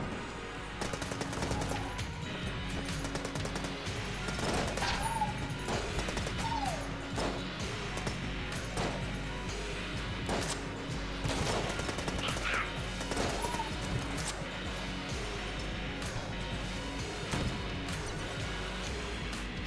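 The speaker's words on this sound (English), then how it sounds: "Probably the machine pistol if I can find where it is." Machine pistol fire in a video game: repeated sharp cracks and short bursts spread across a long stretch of busy combat noise, fairly quiet overall, with no talking.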